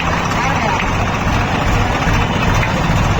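A tractor engine idles with a dense, continuous low rumble, steady and close, alongside a roadside crowd on the way to a temple outing.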